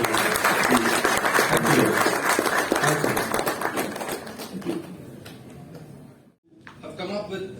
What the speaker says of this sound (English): I think applause for Sandeep.